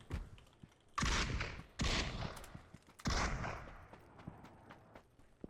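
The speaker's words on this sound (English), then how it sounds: "And Murb gets the first headshot onto Kasani." Gunfire from the PUBG video game during a custom match: three loud, sharp bursts of shots about a second apart, each trailing off into an echoing decay, with a few faint clicks in between and no talk.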